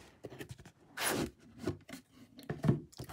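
A Lars von Trier Blu-ray box set is opened by hand, giving close, quiet scraping and rustling of packaging in short bursts, with one longer tearing scrape near the start.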